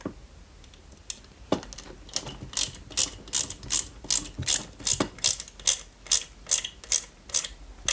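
Small screws being driven into a Lancia 037 model car kit, a close run of rhythmic ratcheting clicks from a screwdriver, quickening into regular bursts with no talk.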